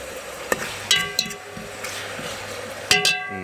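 Tomato, sweet pepper and ackee with thyme and salt sautéing in a pot outdoors, a low sizzle broken by several sharp metallic clinks and knocks of a spoon against the pot.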